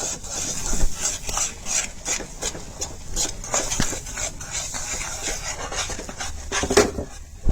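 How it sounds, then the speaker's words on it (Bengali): Sesame seeds and peanuts being stirred into hot jaggery off the heat: a run of scraping, gritty rubs of a spoon against the pan, uneven in rhythm and close up, with no talk. "এখন ওরকম লাড়াচাড়া করি, এটা ঠান্ডা হবে।"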